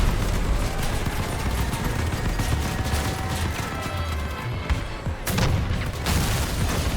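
Sustained machine gun fire and heavy gunshot bursts from armored vehicles in the Crossout combat game, loud and dense throughout with a few sharper booming impacts near the end.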